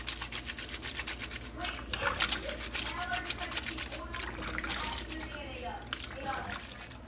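Reusable face masks being scrubbed by hand in soapy water, a steady wet rubbing and sloshing that runs for several seconds close up, with a voice talking over it.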